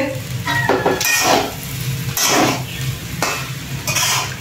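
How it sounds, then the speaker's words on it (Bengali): Fried rice with carrots, cooked in rice already prepared with cashews and raisins, sizzles loudly in a pan while a utensil scrapes and clatters against the metal in repeated stirring strokes, close by, with no talking. "এই যে আমাদের ফ্রায়েড রাইস রান্না হচ্ছে।"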